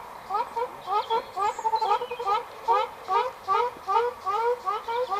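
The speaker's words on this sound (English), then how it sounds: "Funny pair of ducks." A pair of ducks in an orchard quack and call in repeated, rapid bursts, fairly close and loud, with short pauses between calls.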